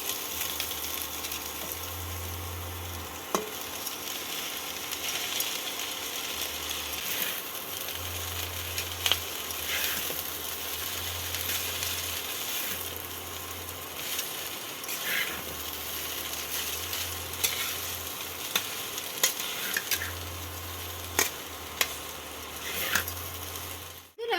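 Boiled pasta is stir-fried in a pan for Schezwan chicken pasta, giving a steady sizzle broken by repeated scraping and clattering of a utensil against the pan, with a few sharp knocks.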